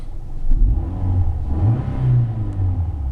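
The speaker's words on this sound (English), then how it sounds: "I'll give it a little rev." A 2009 Nissan Altima 2.5S with the QR25 four-cylinder engine is revved twice in quick succession, a close, loud, low engine rumble swelling and easing back to idle, with no talking.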